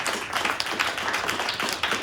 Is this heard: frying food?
no